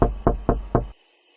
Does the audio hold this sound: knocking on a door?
yes